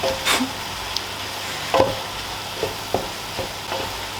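Beef and pork mince fry in an oven-proof pot, a soft continuous sizzle broken by intermittent spoon scrapes and knocks, with a faint fan hum underneath.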